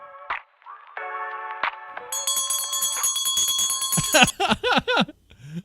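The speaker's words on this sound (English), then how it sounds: "She's ringing the bell." A bell rings repeatedly with a bright, sustained metallic tone that lingers, followed by a few sharp chirping sounds near the end.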